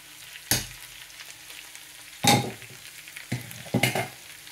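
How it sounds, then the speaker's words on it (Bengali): Steamed taro and green chillies frying in a pan, with sharp sizzling bursts as they are stirred, four distinct loud scrapes over a quiet background hiss, no voices. "এই সব কিছু এখন আমি ফ্রাই প্যানে ঢেলে দেব।"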